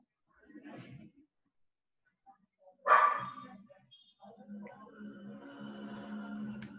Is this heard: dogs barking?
yes